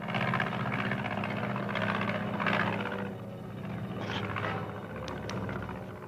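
A propeller airplane passes overhead above an open testing field, its engine a steady, loud drone that swells and eases slightly over about six seconds with no voices.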